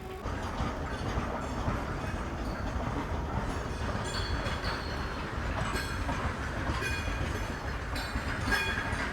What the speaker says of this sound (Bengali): আমার ট্রেন ক্রস করছে বর্ধমান জংশন রেল স্টেশন।